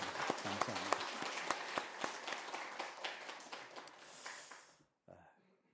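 A church congregation at a Sunday worship service gives warm, steady applause of many clapping hands that fades out near the end, followed by a brief voice.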